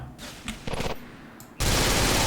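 A mini submachine gun fires in GTA: The Ballad of Gay Tony, with short bursts early on and then a loud, sustained rattle of rapid shots toward the end, with no talk.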